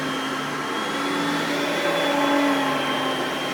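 An Oreck XL Platinum upright vacuum cleaner runs steadily on carpet with a loud, constant motor whine and airy rush that holds level throughout, with no talk.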